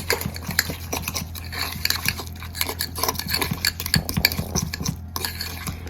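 Lime juice mixture being stirred briskly in a bowl, with a rapid, continuous clatter of a utensil scraping and clinking against the sides, close and fairly loud throughout.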